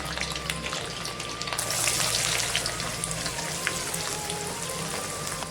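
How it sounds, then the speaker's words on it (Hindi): Steady crackling sizzle of onion and garlic frying in hot oil, close and continuous, with a brief louder burst midway. "मैं प्याज लहसुन को मैं फ्राई कर लेंगे।"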